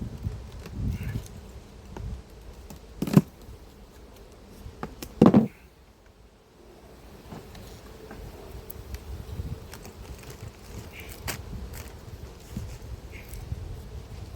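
Wasps buzzing close around an opened wasp nest box at an apiary, a steady insect drone broken by a couple of sharp knocks and handling noises, with wind rumbling outdoors.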